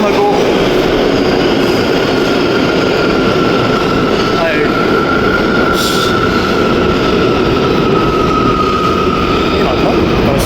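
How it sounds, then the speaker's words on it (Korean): Steady, loud rumble of a subway train riding along the rails, with a faint high whine running through the continuous roar and no pauses. "자, 지하철 타고"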